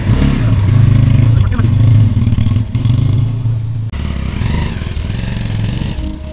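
A motorcycle is ridden on a bike trip from Bangalore to Munnar, Kerala. Its engine makes a loud, close, continuous drone with a low rumble and rattle, dipping briefly partway through before resuming steadily.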